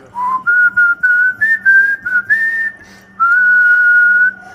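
Over a ham radio link from Brazil, a tonal whistle sounds as the push-to-talk is keyed, a clear melodic series of sliding and stepping notes with a brief gap before a final held tone.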